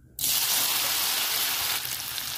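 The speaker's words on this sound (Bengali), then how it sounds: "তেলটা গরম হয়ে গেছে, এবার আমি পনিরটা ভেজে নেব।" Paneer hits hot oil in a pan with a sudden loud, steady sizzle that carries on without a break and eases off slightly near the end.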